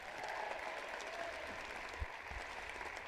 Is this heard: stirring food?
no